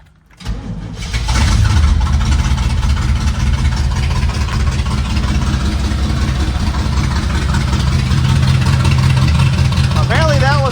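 A 1989 Pontiac Trans Am GTA, an abandoned project car unregistered for 17 years, cranks on a starting attempt: a loud, sustained mechanical roar with a steady low rumble follows a brief quiet start, and a voice is heard briefly.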